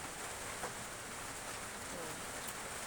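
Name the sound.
rain falling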